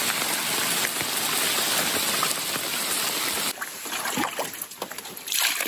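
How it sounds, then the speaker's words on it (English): Heavy rain pours in a dense, steady hiss on the Lady Evelyn River in Temagami. It eases briefly, then returns, and scattered drops and water splashes stand out nearby. "Lots of rain."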